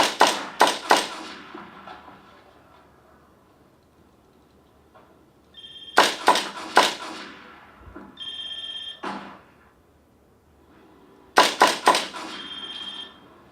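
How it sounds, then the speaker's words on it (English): A cell phone rings in bursts of rapid trilling electronic tones, with three ring cycles separated by quiet gaps during a firearms training simulator scenario, fairly close and clear, with no talking. "So that's that cell phone noise going on."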